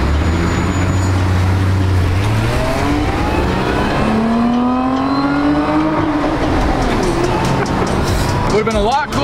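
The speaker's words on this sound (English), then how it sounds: "Quick tunnel blast." A modified car with a race-car livery wrap accelerates hard through a tunnel, the engine note climbing steadily as it revs up through gears, booming and reverberant, with a sharp exhaust crackle near the end.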